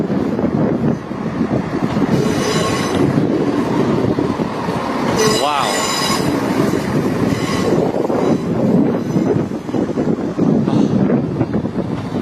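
A train arrives at Dundee station on the East Coast Main Line, its rolling wheels and carriage noise loud and steady throughout, with a brief wheel squeal in the middle and some wind buffeting the microphone.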